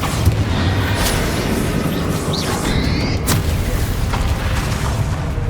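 Loud, continuous booming blasts from the Bombarda explosion spell in Hogwarts Legacy, dense rumbling roar with sharp cracks and debris bursts throughout.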